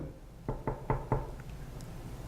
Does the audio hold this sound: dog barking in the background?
no